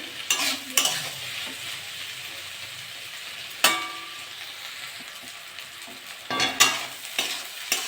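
Spring onion greens, radish, potato and beans sizzle steadily in a hot pan, broken by a few sharp scrapes and clatters of a spatula stirring; no one speaks.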